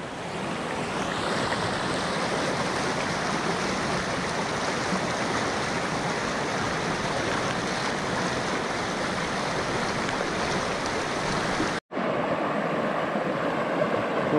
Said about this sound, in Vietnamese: Đây là con suối.